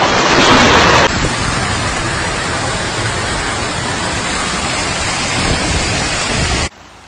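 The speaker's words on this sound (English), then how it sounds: "The hailstorm reached up to 5 inches in diameter" Hailstorm in Australia with stones up to 5 inches across, a loud, dense, roaring pelting that drums steadily on surfaces and then cuts off abruptly near the end, with no speech.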